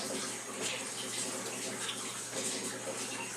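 Water drains steadily from a cichlid aquarium tank, a continuous close rushing hiss with no breaks, like a filling bathtub.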